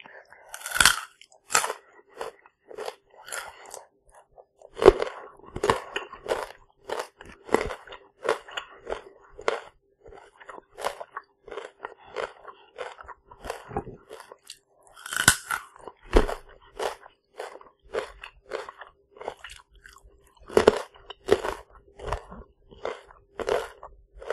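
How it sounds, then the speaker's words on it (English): Close, crisp crunching and chewing of peanut butter toasties, with irregular bites and crackles repeating steadily throughout, intimate and loud with no talking. "crunching sound."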